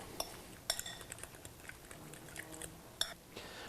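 Egg, feta and cheddar cheese filling being stirred in a bowl for Middle Eastern burekas, with soft scraping and a few sharp utensil clinks against the dish, close and fairly quiet.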